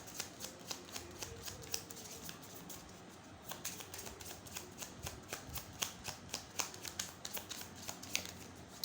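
A deck of tarot cards shuffled and drawn at close range, with quick rhythmic papery riffling and flicks that run as a continuous fast patter, soft and steady with a brief pause partway through.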